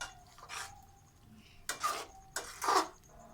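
Street-style chicken karahi being stir-fried in oil, with a few separate scraping strokes of a spoon against the wok, moderately loud over a low background.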